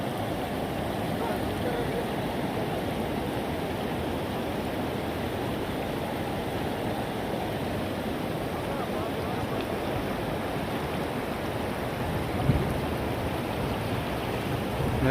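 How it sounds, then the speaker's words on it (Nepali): Floodwater from the Torsa river pours across a blocked road in Phuentsholing, Bhutan. It makes a constant, even rushing roar with no breaks, heard from close by. "पुरा रोडमा पानी बग्दैछ हो"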